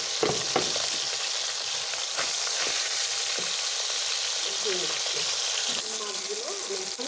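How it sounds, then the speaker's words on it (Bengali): Taki fish marinated in turmeric and salt fry in a pan with a loud, steady sizzle that runs throughout, with occasional clinks and shifts as the pieces are moved. "মাছে হলুদ লবণ মেখে রেখেছিলাম, এগুলো এখন ভেজে নেব।"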